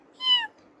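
A kitten gives one short, clear, high meow, close and alone against silence.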